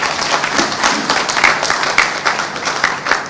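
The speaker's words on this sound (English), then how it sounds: "can we have the applause going for the Executive Secretary of TETFund?" A crowd at a Tertiary Education Trust Fund event applauds the Executive Secretary in loud, close, rhythmic unison clapping, with steady, evenly spaced beats throughout.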